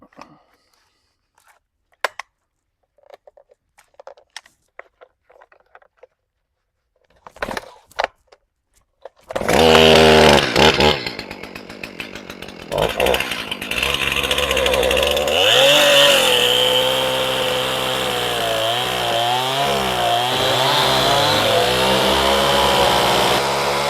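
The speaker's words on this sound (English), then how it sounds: "Definitely going to split with the chainsaw" A few faint clicks and knocks, then a chainsaw starts up loud and close. It revs and bogs down repeatedly as it cuts and splits wood rounds.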